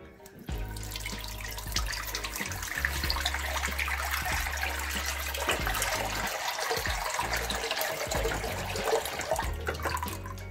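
Tap water runs steadily into a bath, a close, continuous splashing gush with small drips and shifts in flow, and no voices over it.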